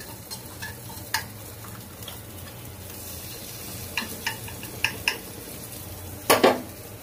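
Ghee added to a pot of hilsa biryani before it is set to cook on dum, a faint sizzle under a series of sharp metal spoon clinks and scrapes against the pot, close and without talk.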